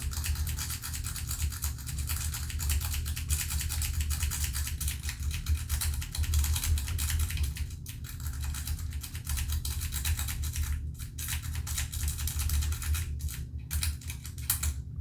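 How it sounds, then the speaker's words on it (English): A 4-pin Brinks 30mm brass padlock being raked open with a lock pick: a continuous, close, fast scratchy scrubbing of metal on pins, with brief pauses near the end. "So I'm just going to start by scrubbing it, and I'm pulsing the tension."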